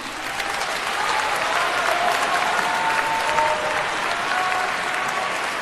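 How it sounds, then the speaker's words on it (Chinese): Concert audience applauding a conservatory's Chinese folk orchestra in a hall, a steady dense wash of many hands clapping, sustained and fairly loud throughout. "让我们再次把掌声送给鲜音乐学院民族管弦乐团"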